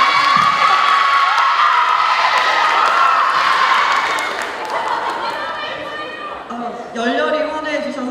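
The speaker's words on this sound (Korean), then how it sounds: "열렬히 환호해 주셔서 감사합니다" A student audience at a 2015 university admissions mentoring workshop cheers and shouts loudly and continuously. The cheering fades into softer crowd chatter near the end.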